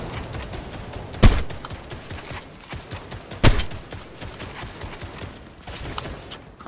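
Gunfire in a shooter video game, steady rattling bursts with two sharp louder cracks standing out over continuous background game noise.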